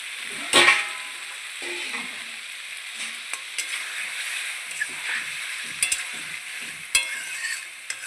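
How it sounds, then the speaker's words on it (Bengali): Fish curry with potato and cauliflower sizzles and bubbles in a pan as water goes in, a steady frying hiss with a sharp burst near the start and scattered clinks of a stirring spoon. "আমি এটাতে এবারে জল দিয়ে দেবো।"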